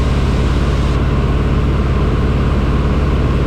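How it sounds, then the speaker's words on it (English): A light aircraft's engine heard from inside the cockpit in flight: a loud, steady, close droning hum that holds nearly constant throughout. "I'm going to have them tell me the first time they hear the engine get louder or quieter."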